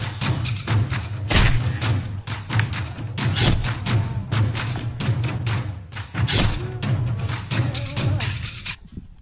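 Repeated heavy thumps and cracks of a three-section staff striking a spear in a weapons test, hitting hard at an irregular pace over a steady low hum, with some voices in between.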